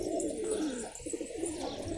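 A jumbo red-capped postal pigeon coos softly nearby, a low throaty burbling that rises and falls over a couple of seconds.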